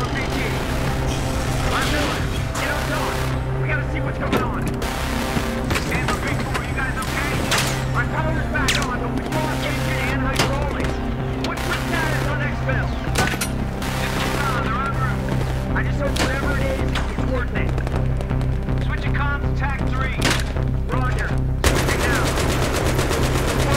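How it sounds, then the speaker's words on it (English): Loud, sustained automatic gunfire from Battlefield 3 rattles almost without pause for over twenty seconds, with dense bursts and sharp cracks layered together and voices talking over the battle. "Who's firing so much? Stop firing!"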